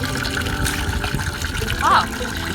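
Cold water runs steadily from an ancient fountain at the Asklepion healing center in Turkey, a close continuous splashing trickle with a brief louder gush near the end.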